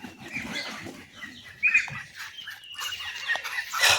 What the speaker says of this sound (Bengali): হাঁসগুলোকে ছেড়ে দিলাম।